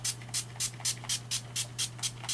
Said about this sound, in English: I just used my NYX Matte Finishing Spray.